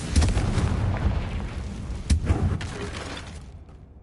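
Confringo fire spell blasts in a Hogwarts video game boom loudly and heavily, a continuous rumbling barrage of explosions with a sharp extra burst midway before the roar fades out.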